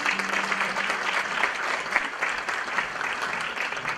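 An audience applauds at a Bahçeşehir University Turkish music ensemble concert honoring Saadettin Kaynak, with moderate and steady clapping from a hall crowd and a faint low tone briefly underneath.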